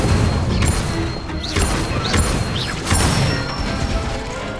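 Spells cast in the video game Hogwarts Legacy: Incendio, Levioso and Accio. Each brings a whooshing magical burst or crashing impact in a string of loud, close effects over a constant rumbling background.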